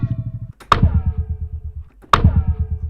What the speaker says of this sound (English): It's almost like a zap laser beam effect with a wobble bass built in.